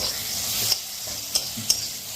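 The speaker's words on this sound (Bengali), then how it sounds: "একদিকে চিকেন চাপাইছি একদিকে মাছ ভাজছি" Four pieces of hilsa fish fry in a pan while chicken cooks alongside, giving a continuous hissing sizzle with three sharp scraping clicks from stirring or turning.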